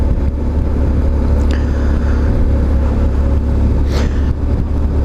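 An old BMW R1150GS motorcycle is ridden, its engine a steady low drone mixed with heavy wind rush across the microphone, continuous and close.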